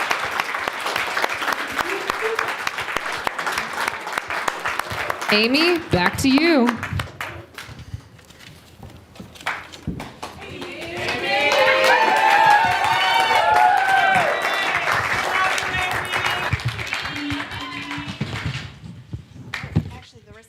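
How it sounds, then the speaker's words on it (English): A worship-service crowd at a teen retreat applauds its staff, a broad wash of clapping swelling up mid-clip and holding for several seconds before fading as a voice resumes talking over the room. "Let's give our staff a round of applause."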